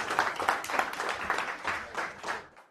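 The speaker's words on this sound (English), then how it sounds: "One more round of applause for Don." An audience at a tech showcase claps and cheers for a presenter, a lively burst of applause in uneven waves that gradually thins out and stops.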